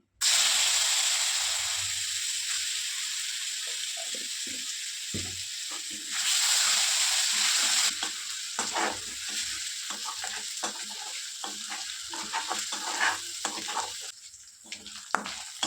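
Ginger garlic paste fries in a hot pan on lowered gas, giving a bright continuous sizzle and hiss that shifts as it is stirred, with intermittent scraping and clatter throughout and no talking.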